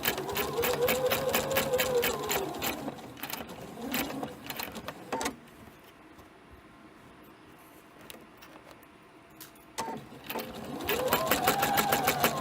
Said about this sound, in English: you start stitching again